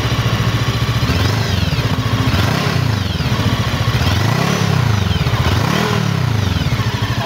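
A two-cylinder FKM Expres 500 cc motorcycle engine is revved several times, each rev rising and falling in pitch over a loud, close, rumbling idle.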